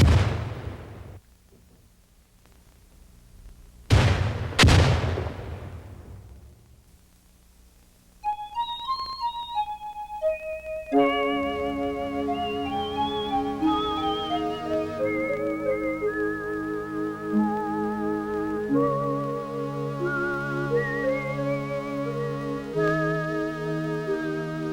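Two live hand grenades go off during U.S. Army infantry basic training at Fort Benning: two loud, sharp blasts a few seconds apart, each with a rumbling tail, then band music takes over.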